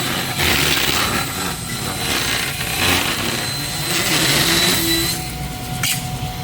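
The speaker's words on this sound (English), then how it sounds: "So now I'm going to start rough cutting all of our shoe molding" A power saw rough-cuts shoe molding during a maple kitchen trim job, producing a continuous loud, close roar of cutting noise that holds steady throughout.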